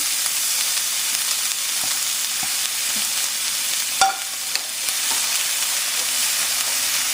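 Mushrooms and beef stir-frying in a pan for a stir fry with orange and ginger sauce, giving a loud, steady hiss of sizzling throughout, with a few soft clicks and one sharper knock of a utensil.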